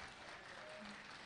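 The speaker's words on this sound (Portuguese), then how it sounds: "Muitas palmas para essa princesa" An audience at a conservative congress gathering applauds, a continuous even wash of clapping heard from a distance and fairly faint throughout the short stretch.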